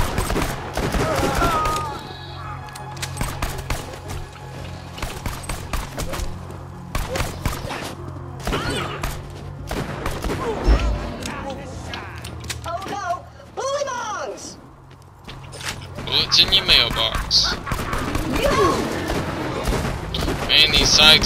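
Shotgun blasts and other gunfire ring out in the video game Borderlands 2, sharp booming shots arriving in irregular clusters, mixed with game effects and someone talking over the action.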